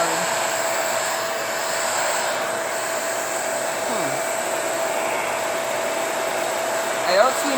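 A Shark Rotator vacuum cleaner runs continuously at close range while cleaning upholstery, a steady loud motor roar with a brief bump of contact noise near the end.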